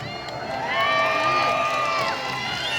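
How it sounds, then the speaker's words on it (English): A zoo animal-show crowd, many of them children, cheers and shouts continuously for a ferret race, with high whoops rising over a steady roar of excited voices. "Excellent cheering from our volunteers."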